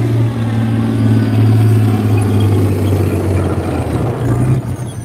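A British Army tank rolls past with a loud, steady low engine drone that holds evenly, then eases slightly near the end, heard alone without talk.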